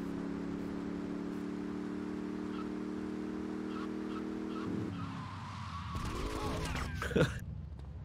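Racing car in GTA: Vice City skidding and spinning out during a tournament race: a steady engine drone gives way to tire squeals and scraping, loud and close, with a brief sharp peak near the end.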